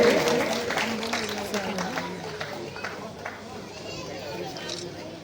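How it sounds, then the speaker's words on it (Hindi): Audience applause for the first runner-up contestant at the Mr and Miss Campbell Bay winner announcement, a steady wash of clapping that slowly fades, with a host's voice over it at the start. "जोरदार तालियां हो जाए हमारे इस मोस्ट डैशिंग कंटेस्टेंट के लिए"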